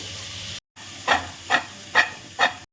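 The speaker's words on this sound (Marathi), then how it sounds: "त्यातच आपल्याला परत फोडणी करायची" Hot oil hisses steadily, then four evenly spaced sizzling bursts flare up as spices for tempering are stirred, close by.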